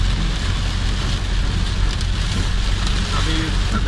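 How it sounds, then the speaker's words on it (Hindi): Heavy rain pours down in Jazan, a dense, steady hiss of downpour drumming on surfaces, loud and close with no break throughout. "ये पहली बारिश है जो इतनी तेज़ी से हो रही है और इतनी ज़्यादा हो रही है।"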